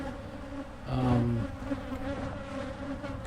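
Honeybees in a crowded, feisty hive box buzz steadily at close range during an inspection, with a brief louder swell of droning partway through.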